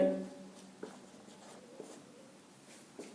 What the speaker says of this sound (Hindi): मैं हिंदी में लिखता हूं